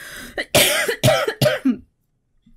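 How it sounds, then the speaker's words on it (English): Several harsh coughs go straight into a close podcast microphone, a quick burst of three or four loud hacks followed by silence. "Again, coughing in the mic."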